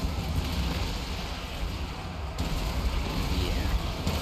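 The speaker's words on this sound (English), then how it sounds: "Just getting shot at and shot up by some mortars." Mortar barrages in Total War: Warhammer 2 during a Skaven assault: a dense, continuous rumble of distant booms and crackling fire, steady and loud, with no voices.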